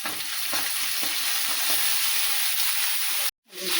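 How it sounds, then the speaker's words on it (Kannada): Green chili paste frying with ginger garlic paste in hot oil for an aloo paratha filling, a loud steady sizzle with light stirring that cuts off abruptly near the end before resuming faintly. "ಈಗ ಇದಕ್ಕೆ ಹಸಿಮೆಣ್ಸಿಕಾಯಿ ಪೇಸ್ಟ್ ಹಾಕ್ತಾ ಇದ್ದೀನಿ ನೋಡಿರಿ"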